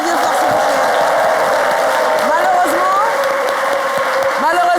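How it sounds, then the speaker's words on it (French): Studio audience applause on a French midday TV show, steady and loud throughout, with sustained clapping and some crowd noise blended in. "On l'applaudit bien fort, s'il vous plaît."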